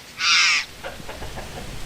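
A single harsh, raspy call from a jay, such as a plush-crested or curl-crested jay, rings out near and loud in a rural Botucatu landscape, followed by quieter scattered calls and background noise.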